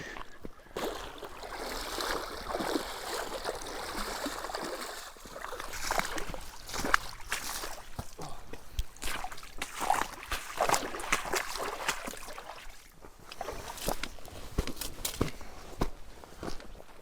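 Footsteps crossing a river on foot: irregular splashing steps through flowing water over a steady rushing stream, close and moderately loud, with no talking.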